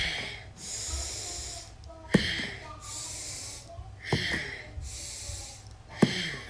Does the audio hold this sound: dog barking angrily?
no